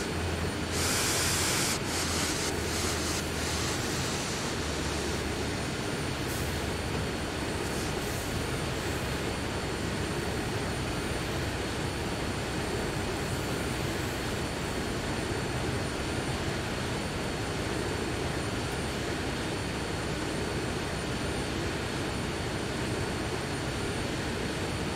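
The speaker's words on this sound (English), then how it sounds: "I can hear the engine completely spool down." Diesel locomotive engine in Train Sim World 4 on the Sand Patch Grade line, a steady broadband rumble with a brief louder burst near the start, settling into a continuous, even drone as it spools down.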